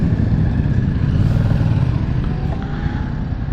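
A Yamaha MT-07 with the Y-AMT automatic gearbox rides through a roundabout, its engine droning loud and steady up close with a slight dip in pitch as it shifts on its own.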